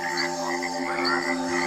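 A cane toad gives a continuous, buzzing croak, steady and close, running unbroken for a couple of seconds with no voices.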